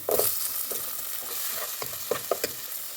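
Steady sizzling of chopped onion and chilli frying in hot oil, with a few spoon stirs and clinks; no voices.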